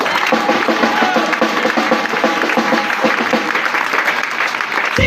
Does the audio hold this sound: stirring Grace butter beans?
no